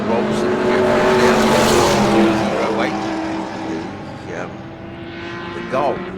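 Race cars at a Manawatu Car Club round, including a Ford Colonial, a Mini, a Falcon GT and a BMW, roar down the front straight in a loud sustained engine drone that fades slightly as they pass, with a commentator talking over it.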